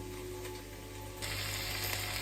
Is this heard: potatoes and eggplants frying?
yes